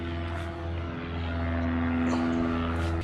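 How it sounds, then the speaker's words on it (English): Propeller airplane passing overhead near an airport beside a house with a travertine pool deck, a steady droning hum that swells slightly toward the end, alone without talk. "They have a airport over here, so sorry about the plane."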